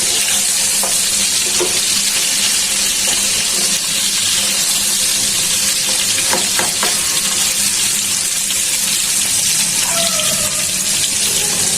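Pieces of bata fish frying in a pan of oil, a continuous close sizzle with occasional scraping and stirring clicks and brief tonal clinks, no voices over it.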